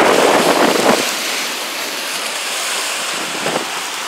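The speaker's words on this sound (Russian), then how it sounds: "Такой вот ураган, друзья" Strong wind and crashing surf from a hurricane on the White Sea, a loud continuous roar with heavy gusts buffeting the microphone, surging hardest at the start and again briefly near the end.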